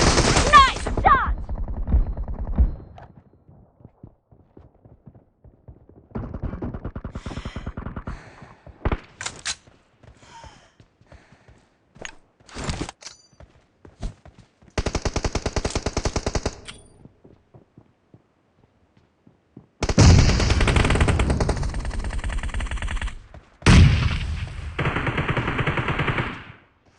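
Automatic rifles fire in a PUBG team deathmatch: loud, sharp bursts of rapid shots come in several separate volleys with quiet gaps between them, and the longest, heaviest bursts arrive near the end.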